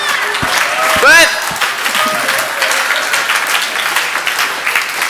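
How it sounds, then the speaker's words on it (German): An audience claps loudly and steadily, with a short sharp whistle or cry sweeping up through the applause near the start before the clapping continues evenly. "Applaus."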